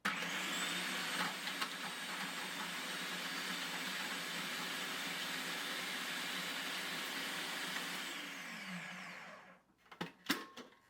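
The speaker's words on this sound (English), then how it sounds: "put the garlic by itself in the food processor and run it on low or high" Cuisinart 9-cup continuous-feed food processor mincing garlic on its own, a loud steady motor whir that runs for about eight seconds and then winds down, followed by a few clattering knocks.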